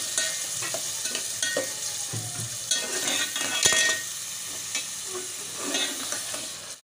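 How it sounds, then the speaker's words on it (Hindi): Tomatoes cook in a pan with browned garlic and ginger. The close sizzle is broken by repeated scraping and clinking of a spoon stirring against the pan. "अब हम इसमें टमाटर डालेंगे, और हम टमाटर को उस वक्त तक इसको थोड़ा सा पका लेंगे कि थोड़ा नरम हो जाए।"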